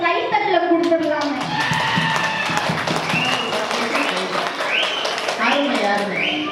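Parents in an audience clap for their children, a brisk burst of applause mixed with voices, including children's, talking and calling out over it.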